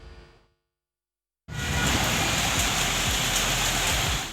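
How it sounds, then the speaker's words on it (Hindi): Steady rain pours down in Kohat, a dense, even hiss of drops on surfaces that starts abruptly after a brief quiet gap and holds loud and unbroken, with no talking. "बरसाती बूंदों ने गर्मी को ब्रेक लगा दिया।"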